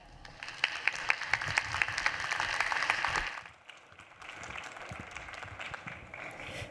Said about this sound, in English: please give a warm round of applause to Beth Noveck